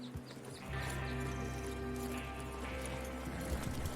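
Horses moving in Red Dead Redemption 2, a steady clip-clop of hooves under a low rumbling game soundtrack, with an occasional whinny-like call, continuous and moderately loud.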